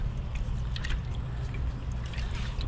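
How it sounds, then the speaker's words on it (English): Water poured into the bottom of a Dutch oven holding cabbage and sausage, a steady close trickling splash with faint crackling bursts, with no talk. "I'm going to add a little bit of water to the bottom of the Dutch oven"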